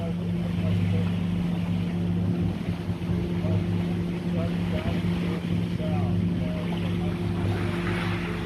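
A sailboat motoring out from the beach under engine power, its steady low engine drone running throughout beneath wind and water noise, with a voice talking over it.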